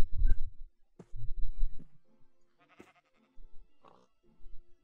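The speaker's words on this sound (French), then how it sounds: "Il m'a fait peur ce mouton." Sheep bleating in the Minecraft video game, several short separate bleats spread across the stretch with quiet gaps between them, close and clear without speech.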